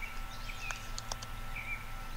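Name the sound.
birds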